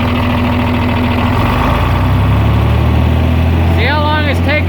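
A John Deere 4010 tractor engine rumbles low and steady in fifth gear, slow to build throttle, with a faint whistling squeal near the end.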